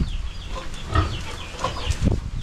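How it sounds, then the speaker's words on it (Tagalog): A mother hen clucks in short, close bursts, a few soft throaty clucks spaced across a couple of seconds. "Ito si Mothering. Gawin namin inahin."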